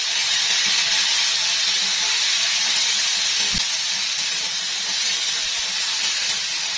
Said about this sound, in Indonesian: aku masukkan bumbu halusnya dan kita tumis bumbunya ini sampai wangi dan juga matang ya